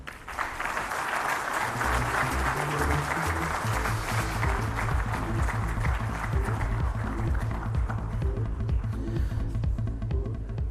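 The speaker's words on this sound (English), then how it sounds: "I think that deserves a bigger round of applause" Sustained audience applause at an electric-vehicle conference, dense and steady throughout, with a low rhythmic thumping running underneath, likely music.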